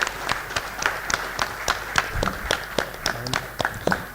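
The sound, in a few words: audience applause at a workshop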